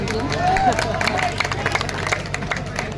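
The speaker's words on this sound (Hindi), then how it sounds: "एक बार जोरदार तालियां बजा के" An audience at a mushaira poetry recital in Deoband claps in a dense burst of sharp hand strikes while a voice speaks over the crowd noise.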